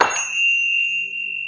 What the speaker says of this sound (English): I also found these Tibetan bells, which I love.